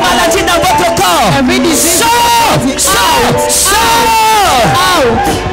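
A church congregation cheers and shouts in acclamation during a lively Sunday worship service, loud continuous crowd voices with whoops and yells swelling throughout, with voices rising and falling in pitch.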